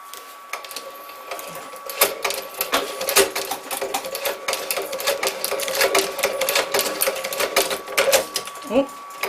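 A Singer 29-4 sewing machine stitches material with a rapid, close mechanical clatter of dense repetitive ticks, with a slipping belt and a thread that snaps, while a person talks over the noise.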